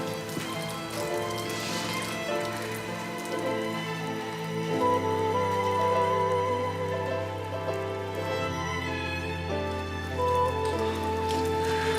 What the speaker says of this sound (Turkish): Yağmur yani ıslanacaksın hadi.